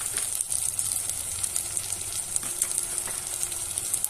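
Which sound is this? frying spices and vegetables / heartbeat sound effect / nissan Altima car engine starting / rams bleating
frying spices and vegetables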